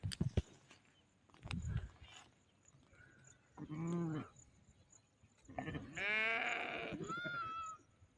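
Sheep bleat repeatedly nearby, several long wavering calls overlapping in a farm setting, with some handling noise and no talk.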